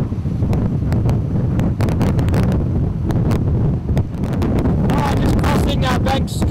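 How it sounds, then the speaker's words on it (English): Strong wind roars into the microphone aboard a sailing yacht motor-sailing into a 33-knot headwind across Bank Strait, a constant loud buffeting rush with water splashing and gusty bursts toward the end. "We've got about 33 knots on the nose, so just motor sailing into it."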